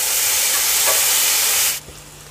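Chopped tomato dropped into frying onions in a pan for a Tamil bitter gourd fry, giving a loud dense sizzle and stirring that cuts off abruptly near the end, leaving a quieter hiss.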